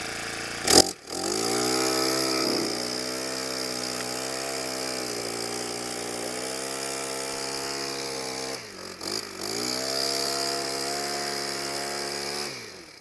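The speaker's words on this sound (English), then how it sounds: "as the edger is cutting the lawn, there's little bits still remain on the outside" A powered lawn edger cuts a curved, snaking lawn edge, running with a steady, close whining drone that dips briefly a few times as the blade bites into the turf.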